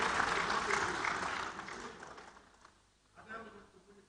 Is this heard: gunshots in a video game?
no